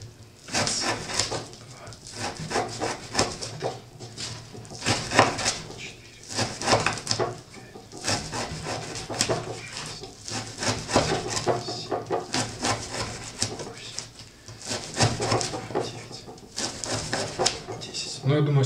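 Knife blades of 95Kh18Sh and N690 steel saw through a thick rope during a sharpness test, producing repeated rough rasping strokes in an uneven rhythm, close up, with someone talking over the cutting.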